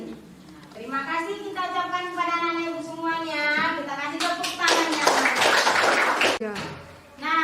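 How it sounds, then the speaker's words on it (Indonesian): Children in a classroom lesson clap together in a burst of dense, loud clapping that lasts about three seconds, following several seconds of sustained children's voices. "Kita kasih tepuk tangannya"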